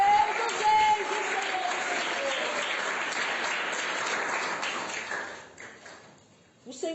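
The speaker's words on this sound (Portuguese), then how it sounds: "Adore ao Senhor com a salva de palmas" Steady applause from a church congregation during a sermon fills the space, fairly even and sustained, fading toward the end.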